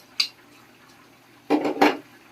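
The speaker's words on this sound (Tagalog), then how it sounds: "So, haluin lang natin." Stirring chicken curry in a cooking pot: a brief metal clink near the start, then two short bursts of scraping and clattering against the pot near the end, close and fairly quiet, with no talk.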